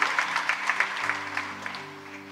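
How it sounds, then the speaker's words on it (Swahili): A church congregation claps at a Swahili preaching service, with quick, steady rhythmic claps over sustained musical tones. The clapping is fairly loud and fills the short moment. "Pigie Bwana makofi mengi mengi ya shangwe"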